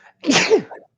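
A single sharp, close sneeze bursts out alone, short and forceful, with a quick breathy intake just before it.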